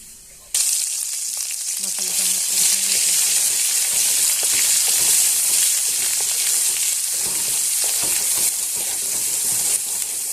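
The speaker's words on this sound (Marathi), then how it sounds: "इथे तेल घालून घेतलं जिरे घालून मसाला घालून घे आता" Cumin and masala crackle in hot oil for a spicy okra dish: a loud, steady sizzle bursts in after a brief quiet start and holds dense and close to the end, with occasional scraping stirs.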